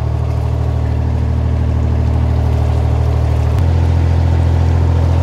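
A boat engine drones steadily at low pitch, close and loud, while the boat backs up and turns, its tone shifting slightly partway through as the motor's load changes.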